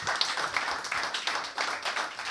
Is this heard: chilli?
no